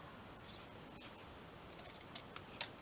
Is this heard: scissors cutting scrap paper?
yes